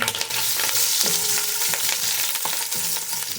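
Ginger frying in olive cooking oil gives a steady, close sizzle with crackles and brief stirring clicks, continuous and fairly loud, with no voices over it.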